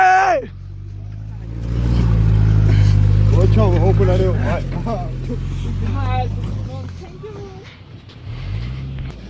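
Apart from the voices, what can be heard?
stuck car engine revving while being pushed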